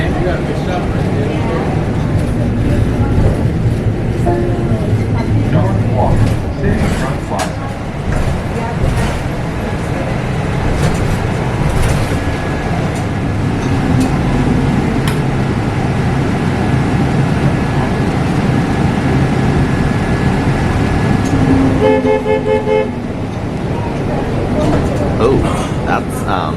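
Interior ride aboard a Nova city bus in Chicago, with a steady engine and road rumble running throughout and a few rattles and clanks, while people talk over the drone.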